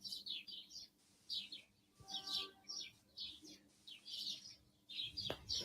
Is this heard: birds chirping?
yes